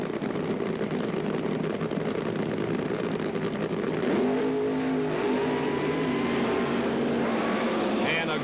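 Drag racing funny cars, one a 1977 Monza, stage and launch at the 1977 NHRA Gatornationals. The engines hold a loud, steady rumble, then surge into a rising, revving roar partway through.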